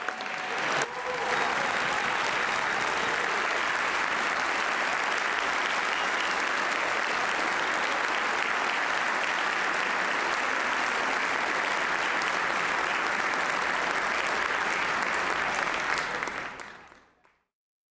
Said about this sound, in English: Let's give them a rowdy round of applause.